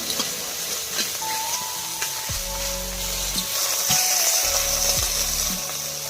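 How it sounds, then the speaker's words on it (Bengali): Pakal fish frying in a pan, giving a steady close sizzle and hiss with occasional spatula scrapes and low thumps as it is turned. "আরও ভালোভাবে মা ভেজে নিচ্ছে মাছটাকে"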